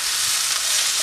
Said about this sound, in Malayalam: വീണ്ടും ഒരു 2 മിനിറ്റ് കൂടെ നമുക്കൊന്ന് വഴറ്റി കൊടുക്കാം.